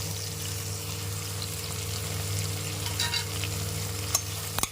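Tomato and mint fry and get stirred in a pan as the base for a mutton curry. A steady loud sizzle fills the scene, with a few light scrapes of the spoon near the end and no talking.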